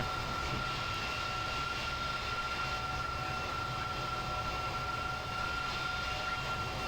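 Three-engine MD-11 jet in Microsoft Flight Simulator 2020 flying from Miami to the Bahamas, a steady, quiet, broadband engine roar with a thin whine, unbroken throughout.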